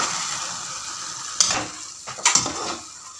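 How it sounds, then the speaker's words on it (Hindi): Green chillies stirred into rice pulao in a pan, a steady soft sizzle of frying with a few brief scraping stir strokes near the end. "अब इसमें हम ये ग्रीन चिलीज जो मैंने आपको बताई थी वो डालनी है। ये ऊपर से हम डाल देंगे और इसको हम मिक्स करेंगे।"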